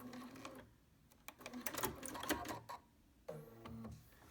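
A BERNINA sewing machine back stitching a hem on a fabric face mask tie with a bias binder attachment, running in short bursts of rapid mechanical stitching with brief pauses between.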